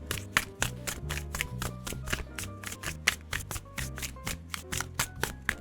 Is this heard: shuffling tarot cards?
yes